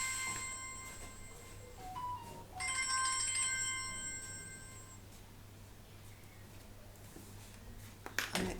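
A phone ringtone chimes in two bursts of bright, steady tones indoors, then stops, leaving quiet room noise with a few small knocks at the end.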